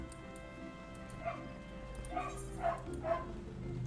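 A dog in Final Fantasy 14 lets out four short, high whimpering yips spaced about half a second apart, fairly faint over the game's quiet ambient backdrop.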